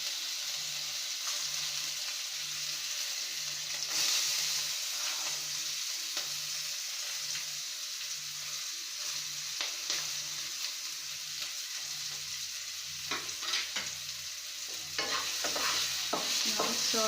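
Chili sautéing in a pan for vegetable bonda sizzles steadily and quietly, with a spoon stirring and scraping now and then and a low rhythmic background hum throughout.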